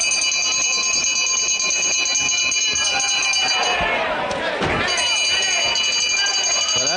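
A wrestling ring bell rings continuously with a bright metallic tone over a noisy crowd at an old-school British wrestling match, with a sharp clang midway and the ringing carrying on throughout.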